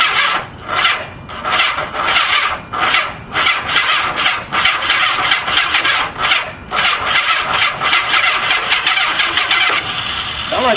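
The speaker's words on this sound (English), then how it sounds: "Sound like it wanted to crank." A 1985 Honda Gold Wing 1200cc motorcycle engine cranking over repeatedly without firing, a loud, close, rhythmic churning of the starter that rises and falls in steady pulses for about ten seconds.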